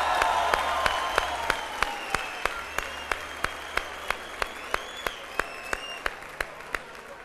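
A studio audience applauds on a Turkish television talk show, making a dense, steady wash of clapping at moderate distance, marked by regular sharp periodic ticks.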